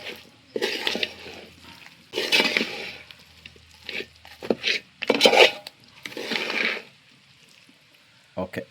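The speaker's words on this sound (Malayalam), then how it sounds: "എല്ലാം കൂടി ഒന്ന് ഇളക്കി മിക്സാക്കാം." A ladle stirs curry with curry leaves in a pot, giving intermittent scraping and wet rubbing strokes in short bursts separated by pauses, with a faint hum beneath.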